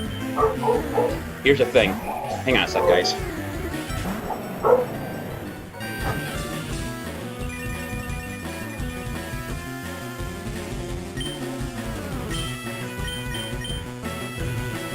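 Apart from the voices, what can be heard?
dog barking and whimpering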